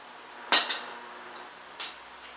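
Metal tools clank while a nut comes off a 1996 Yamaha YZF600 front fork, with one sharp clink, a quick second knock and a fainter tap a moment later.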